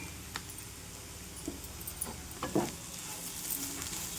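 Sweet corn and carrot masala curry is stirred back and forth in a pan, with soft scraping and faint sizzling, a few brief louder clinks of the spoon against the pan and a steady low hiss underneath.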